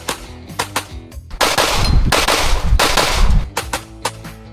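Handgun gunshots at an outdoor shooting range: loud, close, sharp reports fired singly, with a dense stretch of rapid shots and echoes in the middle and more spaced shots after it.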